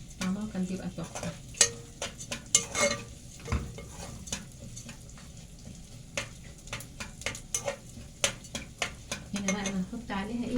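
Taqliya fries in a pan with a steady sizzle, broken by frequent sharp clinks and scrapes of a utensil stirring against the metal, close and fairly clear.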